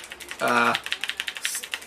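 Rapid, evenly spaced key clicks from a Razer BlackWidow 2014 Tournament Edition mechanical keyboard with linear switches, close up, briefly overlapped by a voice.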